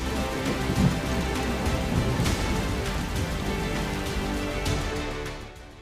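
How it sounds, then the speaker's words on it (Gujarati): Unseasonal late-night rain in Lakhtar taluka, Surendranagar, falls steadily as a dense, even hiss of drops striking surfaces, holding constant before easing slightly at the end. "સુરેન્દ્રનગરના લખતર તાલુકામાં ગત મોડી રાત્રે કમોસમી વરસાદી ઝાપટા પડ્યા"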